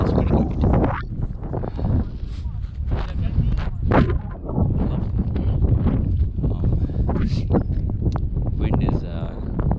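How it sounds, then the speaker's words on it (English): Strong gusts rush and buffet the microphone on an outdoor mountain trail, heard continuously under a person talking. "Wind is strong out here."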